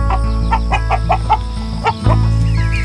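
Backyard chickens in a home garden cluck in a steady run of short, loud, close calls, with several birds overlapping in a rhythmic sequence over a constant low hum.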